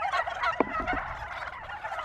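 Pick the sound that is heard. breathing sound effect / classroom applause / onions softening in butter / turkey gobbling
turkey gobbling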